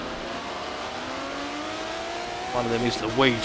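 Aston Martin DBR9 race cars at Brands Hatch in a racing video game, a steady engine whine building and then sharp revving pitch sweeps as cars close in, with someone commentating over the engines.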